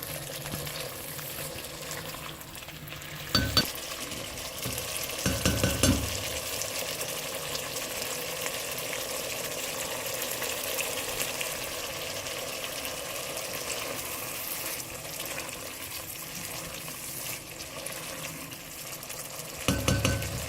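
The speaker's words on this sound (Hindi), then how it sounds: "बस 5-6 मिनट इसको भून लें दही डाल के।" Beef masala boti fries with yogurt in a pan, giving a continuous sizzling hiss with occasional stirring clatter and utensil knocks over about twenty seconds, no talking.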